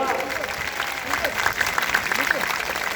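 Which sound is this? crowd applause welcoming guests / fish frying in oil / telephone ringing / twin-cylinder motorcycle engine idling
crowd applause welcoming guests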